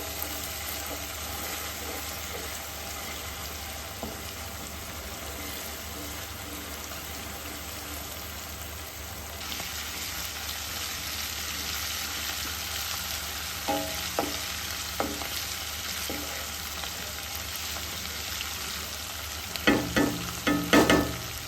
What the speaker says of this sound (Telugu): నేనైతే తాలింపులోనే కొత్తిమీర పుదీనా కొద్దిగా వేస్తున్నాను